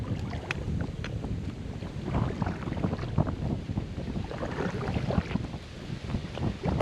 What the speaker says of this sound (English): that wind's coming across through there, get that glisten on top of the water on those waves